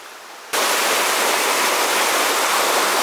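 A small river rushes in a steady, loud broadband roar that cuts in abruptly after a brief quieter moment and then holds constant, close by, with no talking.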